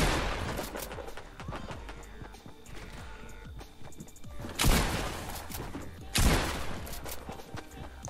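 Gunfire from Fortnite Battle Royale pops in scattered bursts over a busy electronic background, with two louder blasts standing out near the end.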